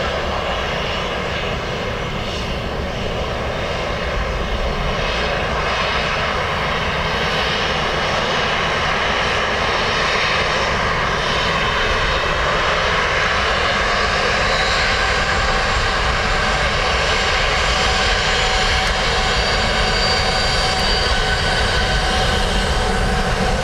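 A jet airliner lands on runway 28 left at Dublin Airport, its engines a loud, steady roar with broadband rushing noise that holds throughout and swells slightly toward the end, with no voices.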